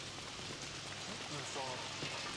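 Steady rain pours in the video game Super Mario Odyssey, a dense constant hiss of drops filling the scene with faint game sounds beneath.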